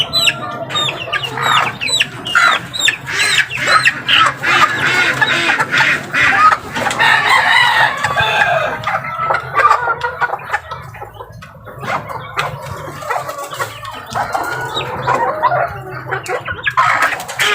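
A mother hen with her chicks in a backyard coop clucks steadily and busily, with overlapping clucks and soft calls from the brood running throughout at close range.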